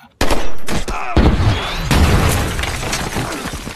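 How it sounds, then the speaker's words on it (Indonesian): Gunfire from the film Machine Gun Preacher, a loud burst of shots with sharp cracks and shattering debris, dense and continuous after an abrupt start. "memutuskan untuk menembak musuh yang ada di depannya"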